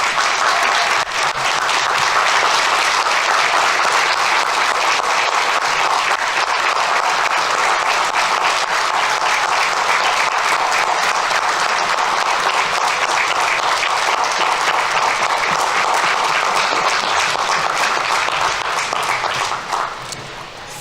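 A commencement audience at Randolph-Macon College applauds graduates' loved ones in a long, sustained wave of clapping from a large crowd, steady and full for about twenty seconds before tapering at the end.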